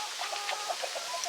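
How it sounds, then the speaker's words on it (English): A hen clucks inside a nesting box in a backyard chicken coop, a series of soft, fairly faint clucks in an irregular rhythm, with no talking. "Now I can hear a chicken in there."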